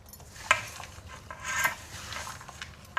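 Grated saffron-colored jaggery being stirred and folded into tangy-sweet raw mango pickle, giving soft scraping and occasional utensil clinks against the bowl, fairly quiet and steady throughout.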